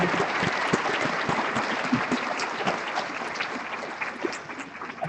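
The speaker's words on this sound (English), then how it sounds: "One more nice round of applause for Anna." Sustained, even applause from a commencement crowd, a dense wash of many hands clapping steadily for several seconds with no break.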